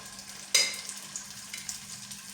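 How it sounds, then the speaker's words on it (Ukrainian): Spoonfuls of chopped meat cutlet mixture drop into hot oil in a frying pan over moderate heat with a sharp hiss, then a steady sizzle and crackle continues nearby, with no talking. "Я смажу не на великому вогні."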